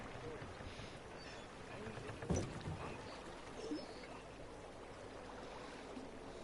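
Quiet water laps and swishes as a rowing boat moves along at night in a park in the horror game The Park, with one louder splash of an oar partway through; a soft, calm, steady ambience.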